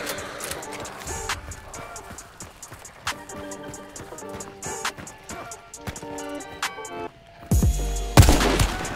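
Gunfire in the video game Hunt Showdown, a string of sharp single shots spread through the scene over a busy ambient bed, ending in a louder cluster of heavy blasts near the end; close and punchy.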